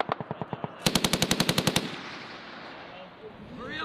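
Machine gun fire at a Marine Corps live-fire training range: a short rapid burst followed by a longer burst of about ten loud, evenly spaced shots, then ringing echo and fading range noise.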